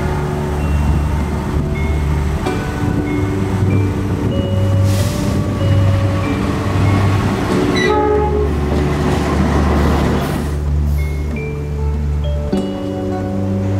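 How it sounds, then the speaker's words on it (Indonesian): The Fajar Utama Solo passenger train runs loudly along the railway toward Solo Balapan, its steady rumble and clatter carrying sustained horn tones that drop and resume partway through. "Fajar Utama Solo masih melanjutkan perjalanannya ke pemberhentian terakhir, Solo Balapan."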